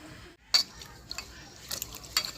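Cut potatoes, onions and garlic are washed in a bowl, with light clinks, taps and watery handling close by, scattered irregularly over a quiet background.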